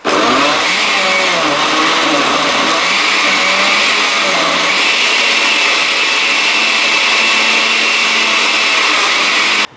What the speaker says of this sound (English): Add the other poblanos. And blend.